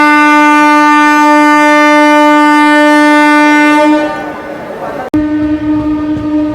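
Vikrama Simhapuri Amaravathi Super Fast Express departing Chirala station, its loud, sustained horn blaring close for about four seconds, then fading before a sharp coupling clunk and renewed rumbling.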